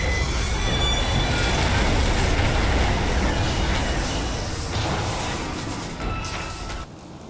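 In the video game Fallout London, a train runs along rails with a loud, dense rumble and metallic wheel squeal, steady and close before easing slightly near the end, no voices.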